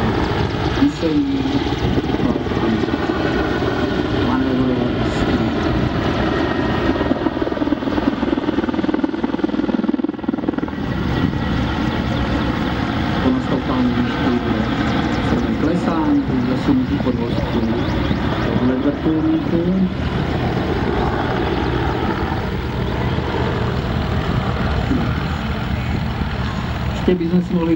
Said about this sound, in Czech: Je to dvoumotorový bitevní vrtulník